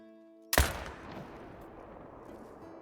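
A single loud AR-308 rifle shot fired in the hunting game Call of the Wild, with a sharp, close crack followed by a long, fading rumbling echo. It stands alone over a faint ambient hum.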